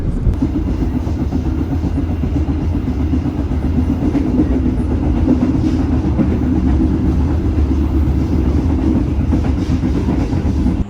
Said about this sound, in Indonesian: sekarang keretanya udah jalan dan saya merasakan kalau ini roda di bawah saya banget